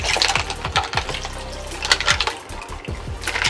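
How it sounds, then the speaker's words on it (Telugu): Dirty water being poured out of a container and clean water refilled while rinsing makeup brushes, with splashing, clinking container knocks and short gurgling pours, close and fairly loud. "దానికి ఫస్ట్ ఈ డర్టీ వాటర్ పడేద్దామండి. మళ్ళీ క్లీన్ వాటర్ ఫిల్ చేయండి."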